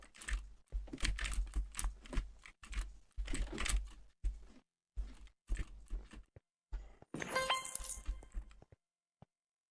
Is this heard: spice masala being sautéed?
no